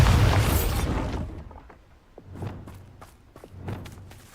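A Bombarda spell in Hogwarts Legacy bursts with a loud, close blast at the start and then fades into a rumbling tail, followed by a few softer thuds and footstep-like knocks.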